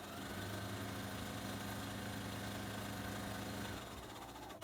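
A sewing machine stitches a straight seam on an envelope-style pillow at a slow, steady pace, its motor humming continuously before stopping near the end.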